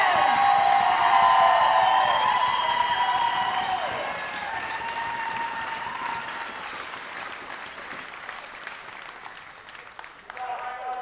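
Outdoor crowd at the finish of a Super G ski race at the National Veterans Wheelchair Games, applause and cheering rising loud then tapering to scattered clapping, with an announcer talking over it.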